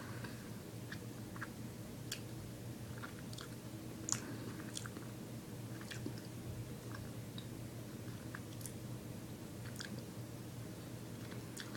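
Faint, close chewing of dense, firm cherry fruit gummies from an Angry Birds Star Wars candy, soft irregular squishes and clicks over a steady low background hum.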